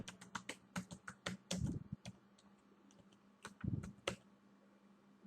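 Quick bursts of computer keyboard typing, with irregular clicks and a few heavier key taps, close and fairly quiet as a Google search is entered.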